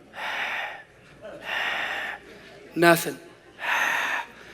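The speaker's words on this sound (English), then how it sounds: "Never heard anybody breathe quite like the way you're breathing." A person breathes heavily in three long, loud, rasping bursts, with a short sharp gasp or snort between the second and third, all close and alone.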